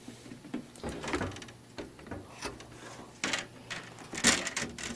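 Pre-filter being pulled out of an Aroeve True HEPA air purifier, a close series of plastic scrapes, clicks and rattling knocks in irregular bursts, with a sharper clack near the end and no talk.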